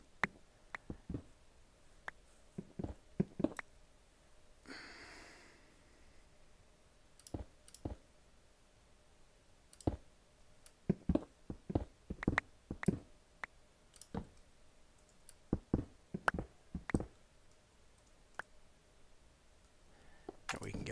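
Quick, close mouse clicks from a computer mouse shift-clicking items in Minecraft, arriving in rapid irregular bursts over a quiet background with a brief whoosh partway through.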